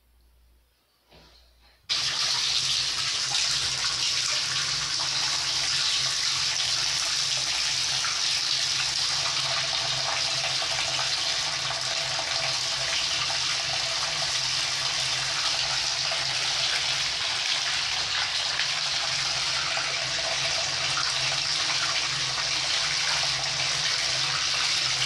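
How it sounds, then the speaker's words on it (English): Loud, steady rush of running water begins abruptly after a short quiet moment and continues unbroken at full strength, close and alone with no talking, while a Halloween goosebumps cocktail is being prepared. "the water is going to get loud"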